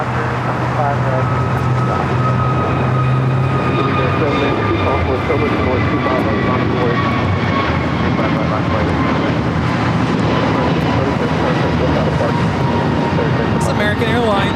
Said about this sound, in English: It's American Airlines 636 taking off to Charlotte on the A321 Neo